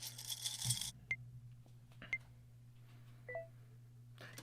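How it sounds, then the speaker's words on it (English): Sparse electronic beeps from a phone app's three-second countdown timer, a few short separate tones spread across quiet stretches, with faint handling noise at the start and end. "I'm going to hit, and I'm going to go with timer."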